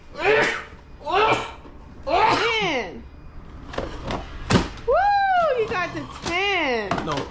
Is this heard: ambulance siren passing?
no